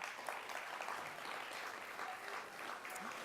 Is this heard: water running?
no